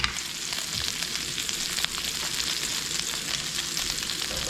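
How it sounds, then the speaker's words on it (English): Bacon sizzles and crackles in a pan, a dense steady frying hiss with scattered pops and small stirring clatters throughout. "let's pull the bacon out here, get them all out so none of them burn"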